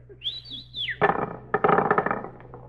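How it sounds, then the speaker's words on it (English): A person whistles a short rising and falling tune, followed by a burst of noisy clattering and rustling sounds nearby. "Wait, let me whistle at him."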